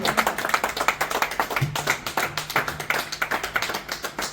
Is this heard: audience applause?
yes